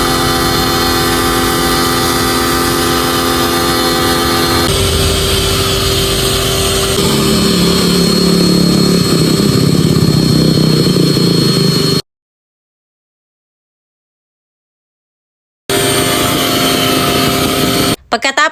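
A pressure washer with a spray nozzle runs loudly and steadily while rinsing a soaped motorcycle, its motor and spray hissing nearby, then cutting out briefly before starting again; a voice is faintly present.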